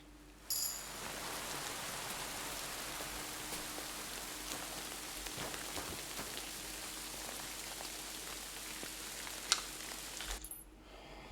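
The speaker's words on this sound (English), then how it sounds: "hopefully the rain will be gone in an hour" Steady rainfall in Kingdom Come: Deliverance II, a continuous even hiss of drops on surfaces that runs for most of the stretch, with one brief sharp tick near the end before the rain cuts off.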